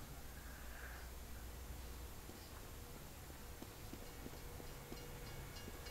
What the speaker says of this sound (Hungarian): Jön a vonat.